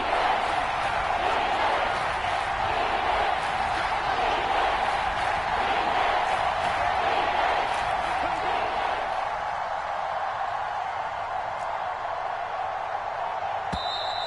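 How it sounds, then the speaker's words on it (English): A football stadium crowd roars in a dense, continuous wall of noise ahead of a big third down, loud and sustained throughout, easing slightly toward the end with some voices mixed in. "The crowd getting into it as we come up on a big third down."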